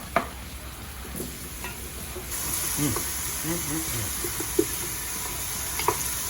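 Ginger, garlic, jalapeno and lemongrass sweat gently in a pan with a soft steady sizzle, broken by a few stirring scrapes and light clicks of a utensil.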